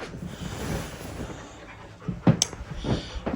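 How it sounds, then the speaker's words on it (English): A puppy pants rapidly and close by in a house, breaking into a few short whimpers and yips partway through, with no talk over it. "Oh my goodness, I see a puppy."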